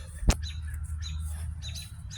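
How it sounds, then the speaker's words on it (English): Wild birds chirp outdoors near trees, a few short, bright calls rising over a low steady rumble, with one sharp knock near the start. "Hear the birds?"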